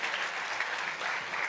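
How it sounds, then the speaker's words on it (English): Dense, steady applause from a conference audience at the FII Priority summit in Rome, filling the whole short stretch at an even level with no voices over it. "a big round of applause for Alejandro Agag."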